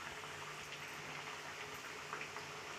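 Wheat biscuits with jaggery fry in oil over a low flame, giving a quiet, continuous bubbling crackle with no voices.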